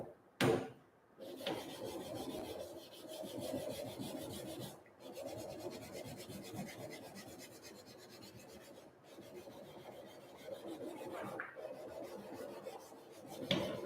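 A blade is worked back and forth on a diamond sharpening stone carrying a light mud, making soft, repeated rasping strokes close by with brief pauses between them.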